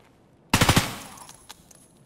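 Gunfire in the video game Escape from Tarkov: a sudden rapid burst of several loud shots, then a decaying echoing tail with a few fainter distant shots.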